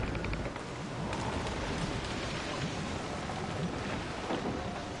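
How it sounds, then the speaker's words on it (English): Heavy rain and rumbling thunder in a storm at sea in Assassin's Creed Rogue, a steady dense roar of downpour with low booming swells, loud and continuous throughout. "It's quite a rough squall, Captain."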